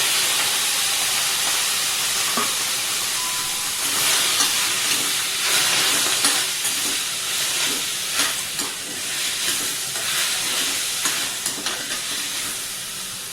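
Steady sizzling and hissing of food frying in butter and oil in a pan for tomato soup, close and continuous, with occasional small pops and stirring clicks.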